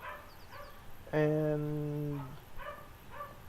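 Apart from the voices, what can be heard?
dogs barking outside, from the video game Broken Sword 5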